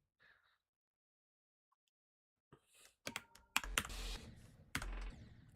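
Keys clatter on a Corsair K70 keyboard, a burst of fast, close clicks and taps starting after a near-silent pause and growing denser toward the end.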